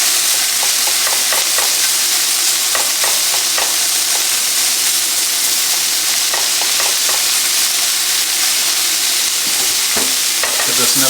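Peppers and roasting potatoes fry loudly in a pan near sausages, a constant hissing sizzle up close with bursts of clattering as the pan is tossed and stirred.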